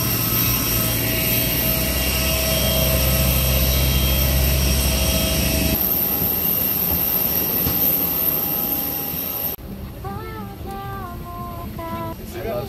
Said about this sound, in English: And there's the CFM56 engine.